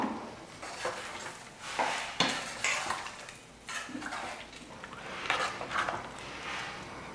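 Chicken kurma curry is stirred in a pressure cooker pot with a metal spoon, giving repeated scraping and clattering strokes against the pot at a close, moderate level.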